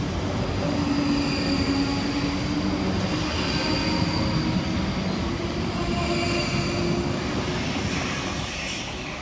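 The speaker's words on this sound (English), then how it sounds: "Whilst flying through the station in the opposite direction is 165 111, working 1 Oscar 71 for Great Western Railway" A Great Western Railway class 165 diesel train speeds through a station without stopping, a loud sustained roar of engine and wheels on the rails lasting the whole stretch and fading slightly at the end.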